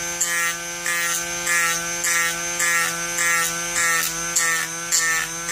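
Battery-powered 10.8 volt variable-speed Dremel rotary tool running at low speed while sanding a 1/35 scale model part: a steady whine with a pulsing, rubbing rhythm as the bit repeatedly touches the workpiece, close and fairly loud, with no talking.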